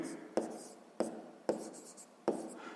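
Pen strokes write out a sixth-grade math solution on paper, four distinct scratchy taps spaced about half a second apart, each trailing off, quiet and close with no talking.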